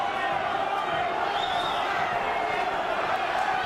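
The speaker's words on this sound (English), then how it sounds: "This crowd is really into it." A boxing arena crowd, during a heavyweight bout between Andrzej Gołota and Orlin Norris, roars in a steady, sustained wash of cheering and noise, with a commentator's voice faintly present.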